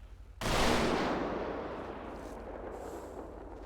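Honor guard rifle volley at a memorial service, a single loud simultaneous blast from several rifles that rolls out into a long echoing decay across open ground.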